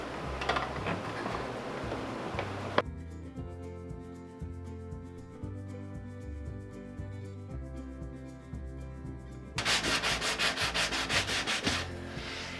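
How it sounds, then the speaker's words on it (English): Hand sanding a treadle sewing machine with a sanding sponge wrapped in a sanding disc rasps in rhythmic rubbing strokes at the start and again near the end, with a quieter tonal stretch in between. "fold over an orbital sanding disc over the top of our sanding sponge"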